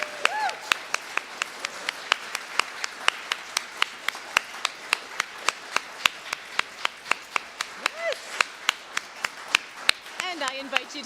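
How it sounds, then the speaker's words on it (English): A Sunday service congregation claps for the musicians in a steady, fairly sparse rhythm, with individual claps standing out clearly over quiet room tone; a few voices murmur in the background. "Let's have another big round of applause for these wonderful musicians."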